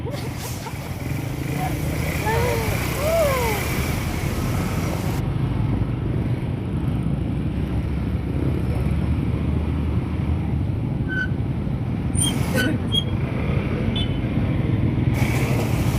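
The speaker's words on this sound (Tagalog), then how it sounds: "Traffic na, guys, traffic." Busy road traffic with cars, motorcycles and tricycles makes a steady, loud engine rumble throughout, heard from close by, with people talking faintly in the background.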